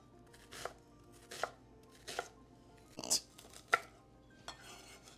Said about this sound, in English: so now we're going to chop up our onions and our celery.